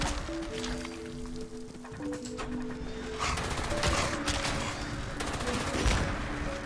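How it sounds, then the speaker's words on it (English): A Gatling Laser firing in Fallout 76, winding up and then pouring out a continuous, fairly loud stream of rapid buzzing shots that grows denser and louder toward the end. "it is going to have a wind-up time as well before, so it's actually firing"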